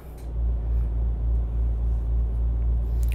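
Truck engine labouring in a high gear in a Turkish-map driving game with a Tanju Akdoğan mod, a steady deep low rumble with slight pulsing, loud and continuous throughout.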